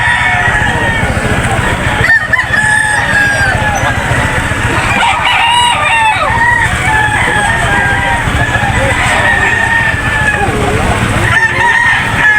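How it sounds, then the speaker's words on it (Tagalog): Chickens cluck steadily and a rooster crows several times over a busy farmyard din at a Saturday morning poultry market in Lipa, Batangas, with faint voices in the background. "Ito po yung manok."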